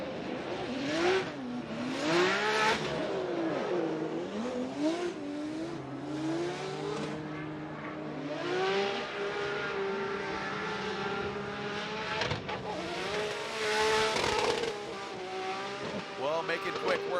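Drift cars on a championship run rev hard with wavering engine pitch and squealing tires, loud and continuous at a stadium event, with commentators and crowd noise faintly underneath.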